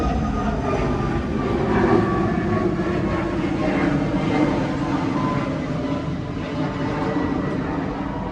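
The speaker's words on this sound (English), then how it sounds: "there's a plane flying over" A propeller or jet plane passes overhead above a tropical home garden, its steady broad engine roar loud and continuous throughout, with no talking over it.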